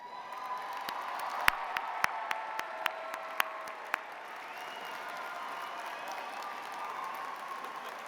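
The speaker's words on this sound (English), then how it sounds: "One last round of applause for all these amazing graduates" A large audience at a college graduation ceremony applauds steadily from a distance, with a few sharp, close claps standing out early before the clapping settles into an even wash.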